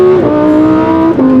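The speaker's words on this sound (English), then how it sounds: "I lift this up to start the car." A Lamborghini STO's engine fires up, a loud, close steady harmonic drone with a brief rise in pitch partway through, heard alone with no talking.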